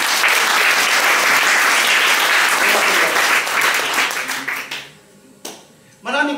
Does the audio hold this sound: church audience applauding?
yes